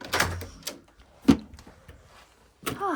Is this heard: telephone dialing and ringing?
no